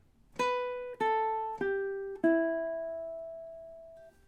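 Four plucked ukulele notes of the Day-O (Banana Boat Song) melody, played at a steady beat, close and clear, with the final note left to ring and fade.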